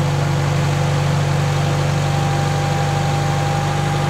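A tractor engine idles at a steady, loud, unbroken drone during an alternator test, with no voices over it.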